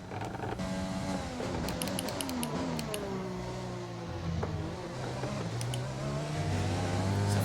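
Formula 1 2020 race cars at the Belgian Grand Prix roar in a dense, continuous engine drone, several cars running side by side with pitches shifting, rising and falling throughout at steady loud level.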